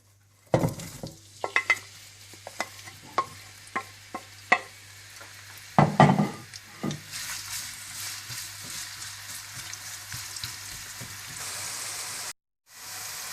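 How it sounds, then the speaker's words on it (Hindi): Onions frying in hot oil for a chicken white korma, with a steady sizzle and a run of sharp stirring clicks and scrapes against the pan, close and with no talk. "तेल में आप प्याज डाल दें और प्याज को आप फ्राई कर लें।"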